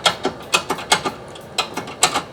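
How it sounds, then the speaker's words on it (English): An engine hoist ratchet clicks repeatedly in quick bursts while lifting a Chevrolet Lumina engine, a dozen or so sharp metallic clacks in an uneven cranking rhythm, close and fairly loud. "Hooking it on and cranking it up"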